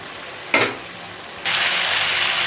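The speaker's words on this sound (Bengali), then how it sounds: "মশলাটা ভালো করে কষে নেবো এবার, তারপর জল দেবো" Spice paste (masala) fries in a hot pan as it is stirred, a sharp scrape-and-sizzle burst followed by a steady, loud, close crackling sizzle with no voices.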